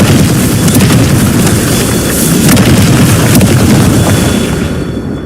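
Loud, sustained blast of a Confringo spell explosion in the video game Hogwarts Legacy, a dense rumbling roar that holds steady for several seconds before easing slightly at the end.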